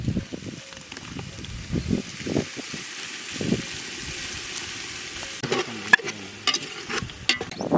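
Tomato paste sizzles in hot oil with ginger garlic paste while being stirred for a village-style mushroom biryani, with steady frying hiss and repeated scraping stirs throughout, close and moderately loud.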